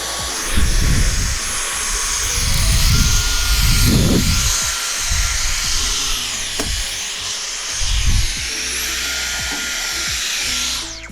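Dyson V15 Total Clean cordless vacuum cleaner running, a loud steady high motor whine held throughout, close up, with someone talking over it at intervals.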